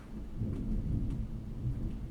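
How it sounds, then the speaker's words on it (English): Deep thunder rolls on and off at moderate volume, a low continuous rumble alongside faint rain, with no voices. "That thunder again."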